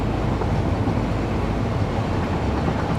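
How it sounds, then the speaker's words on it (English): A passing train in a video game, a dense steady rumble holding at an even level for a few seconds, with broad rolling low noise and no speech over it. "There's a train, there's a train."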